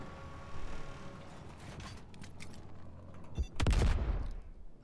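The F-55 gun firing in Star Citizen, a loud close burst of rapid fire near the end that follows quieter mechanical clicks and creaks.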